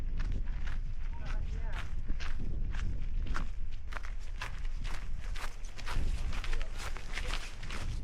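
Footsteps on a rugged gravelly path in Iceland, steady crunching strides at close range over a continuous outdoor background.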